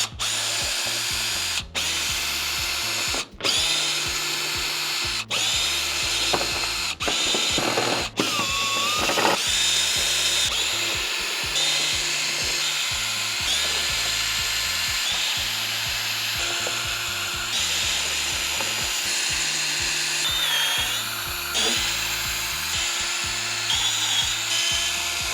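Power tools and ratchets work on a 971 Porsche Panamera, backing out T25 Torx screws and 10mm bolts to remove underbody panels, with repeated short bursts of whirring and clicking separated by brief pauses, close and fairly loud.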